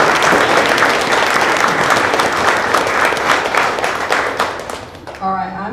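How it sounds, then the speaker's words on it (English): Audience at a community program in a heritage museum breaking into a round of applause, dense sustained clapping from a sizable crowd that fades toward the end as a voice begins over it. "let's give Stuart Main Street a round of applause"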